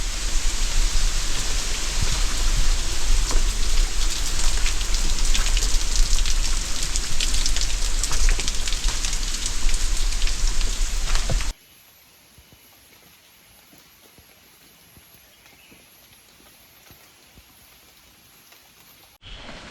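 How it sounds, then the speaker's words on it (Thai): Heavy rain pours down in a forest near a mountain waterfall, a dense, loud, steady hiss that stops abruptly partway through, leaving only a faint quiet patter and near silence. "น่าจะฝนน่าจะเบาลงแล้วนะครับ"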